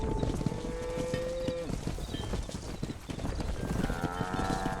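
A herd of cattle lows while horse hooves clip-clop steadily through a ranching drive in the video game Red Dead Redemption, with animal calls and trotting blending into a continuous, busy bed of sound.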